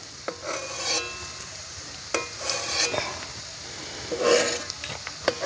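Garlic fries in a pan while being stirred, a steady close sizzle broken by scraping stirring strokes and occasional clinks of the utensil against the pan.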